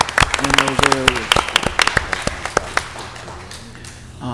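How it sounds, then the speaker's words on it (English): Scattered applause at a city council meeting in Mobile, Alabama, honoring a staff member, with sharp individual claps close by, a few voices talking over them, and the clapping fading out. "let's give him a big round of applause for all that he does in those areas"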